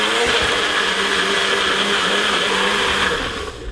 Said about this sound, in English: pop this straight into our NutriBullet. We're going to pop the lid on. We're going to whiz this into a cream